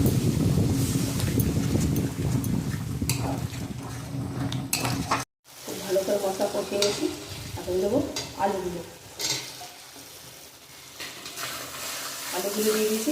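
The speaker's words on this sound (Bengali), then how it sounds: "এখন মশলাটা তেলের মধ্যে সুন্দর ভাজা ভাজা করে নিয়েছি" Spice paste fries in oil in a pan while a utensil stirs and scrapes it, making a loud, close sizzle with repeated metallic scraping. The sound drops out briefly about halfway through, and a voice talks quietly in the later part.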